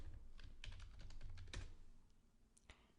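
Quick bursts of keystrokes on a computer keyboard, close and fairly quiet, tapping rapidly for about two seconds before trailing off to a couple of isolated presses.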